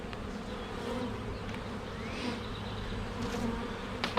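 Honey bees buzz continuously around a hive being installed, a dense close drone with individual insects passing near, steady and fairly loud with no talking.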